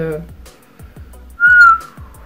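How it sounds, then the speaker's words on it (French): Someone whistles a short, wavering high note, breathy and close, amid soft clicks and faint vocal sounds. "Je ne sais pas siffler."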